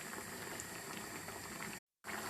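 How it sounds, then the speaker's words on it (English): Jamaican ital curry butter beans simmer in natural coconut milk with a soft, steady bubbling heard close up, briefly cut by a moment of silence near the end. "I'm gonna allow this to cook for about 5-6 minutes because the butter bean already cooked guys"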